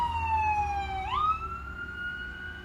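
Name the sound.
fire truck siren passing by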